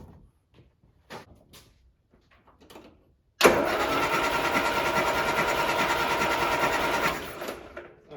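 A Land Rover Series 3 engine with no compression on cylinder 4 cranks over loudly and steadily for several seconds, close by, after a few quiet clicks and knocks.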